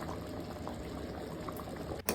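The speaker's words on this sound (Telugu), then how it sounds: "ఇప్పుడు చూడండి బాగా ఉడుకుతుంది కదా" A pot of biryani rice water at a rolling boil on high flame, steady bubbling and gurgling close by, ending in a brief knock or clink.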